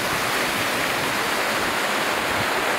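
Water rushes loudly and continuously through an open sluice gate into an irrigation canal in Sarysu, Zhambyl region, a thick, unbroken roar close by with no voices.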